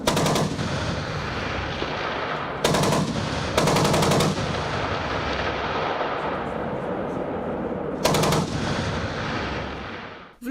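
Loud bursts of automatic gunfire during live-fire military reservist exercises in Abkhazia, several rapid volleys spaced apart, over a constant heavy rumble of distant firing.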